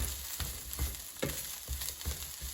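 Brussels sprouts sauté in a pan with a steady, soft sizzle, broken by a few low stirring scrapes at uneven intervals, heard close and without talk.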